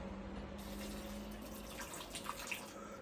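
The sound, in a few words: water being poured into a tarantula enclosure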